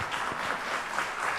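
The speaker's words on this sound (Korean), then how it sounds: "우리 전달해 줄 때 여러분들 한번 격려의 박수" A church congregation claps in encouragement during a presentation, a short burst of steady, dense applause from many hands filling the room.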